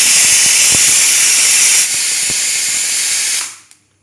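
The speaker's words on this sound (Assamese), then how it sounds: "অমিতা বইলৰ চিটি 2টা আহি গ'ল" A pressure cooker whistling while boiling papaya: a loud, steady hissing steam blast that drops slightly in level partway through, then cuts off abruptly, close and alone.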